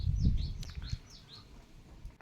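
Small birds chirp while feeding on scattered rice, a few quick high calls repeating over a close low rustle and patter near the start, then fading to quiet.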